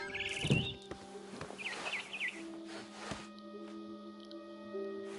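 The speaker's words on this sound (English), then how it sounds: "Then I heard chirping outside my window. It was a barn swallow going back to her nest." A barn swallow in the video game What Remains of Edith Finch chirps in short high twittering bursts, a few calls spread over several seconds against a faint background hum, with no talking.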